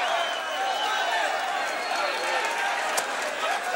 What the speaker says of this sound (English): a crowd of people come storming into the ring